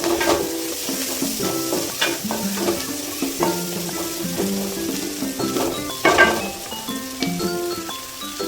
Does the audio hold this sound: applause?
no